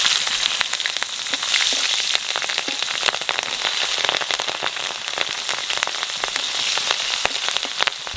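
Green chilies, bay leaves and nigella seeds frying in mustard oil left over from frying pabda fish, a loud, dense crackling sizzle with sharp pops and spits, close and continuous.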